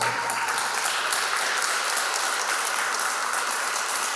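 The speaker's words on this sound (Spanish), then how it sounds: "Dele un aplauso fuerte al Señor" A church congregation applauds loudly for the Lord, steady, dense clapping that fills the room evenly for several seconds without a break.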